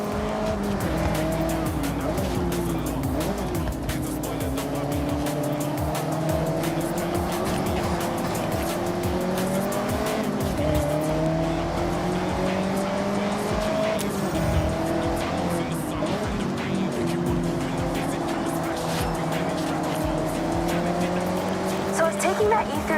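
A car drifting in Forza Horizon, its engine droning steadily with shifting pitch while tires squeal continuously through a long slide, loud and sustained throughout with no pauses.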